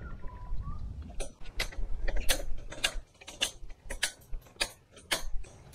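Bolt cutters work through a metal bar during a cattle grid overhaul, giving a close series of sharp, irregular metallic clicks and snaps.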